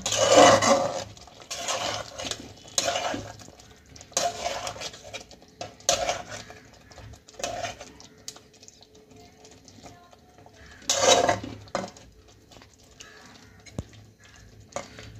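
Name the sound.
stirring yogurt chicken in a cooking pot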